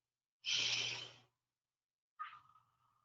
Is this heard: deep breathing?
yes